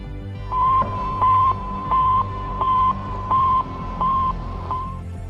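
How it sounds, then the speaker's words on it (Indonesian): The Sputnik satellite's repeating electronic radio beep pulses steadily, about seven evenly spaced tones over a low hum, clear and regular. "Sputnik memancarkan gelombang yang bunyinya seperti ini."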